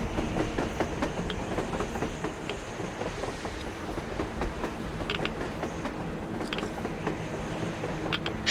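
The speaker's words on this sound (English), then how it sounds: "A train! A damn train on the surface!" A train rolls past on the surface in the video game Metro Exodus, with rhythmic clickety-clack of wheels on rail joints, creaking wagons and a steady heavy rumble sustained throughout, no voices.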